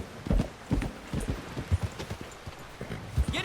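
Horse hooves clip-clop in Red Dead Redemption 2, a steady run of close, distinct hoofbeats with a faint whinny-like cry near the end.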